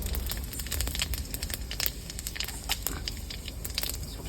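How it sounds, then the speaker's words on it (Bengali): Whole cumin seeds crackle and sizzle in hot oil in a pan for a vegetarian cabbage curry, giving a dense, close stream of fine pops and spits throughout. "তরকারিতে পুরো দিয়ে দেবো গোটা জিরে"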